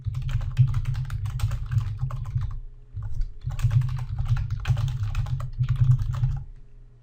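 Fast, steady typing on a computer keyboard while entering a comment into an Excel 2013 scenario, with close clattering keystrokes in bursts and one brief pause.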